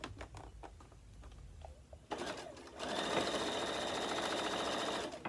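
A sewing machine chain pieces quilt blocks, starting after a few soft handling sounds, then running in a steady, fast, close whirring stitch for several seconds before stopping.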